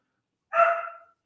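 A dog lets out a single short bark, fairly clear and isolated against otherwise silent surroundings, lasting about half a second with a slight trailing tail.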